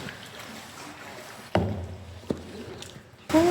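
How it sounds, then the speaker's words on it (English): Kayak paddle strokes in a sea cave off Fleming Island, Barkley Sound, BC, reversing out of a dead end: a few sharp splashes and knocks stand out over a steady low watery wash, with a louder burst at the end. "Trying to do a backward paddle."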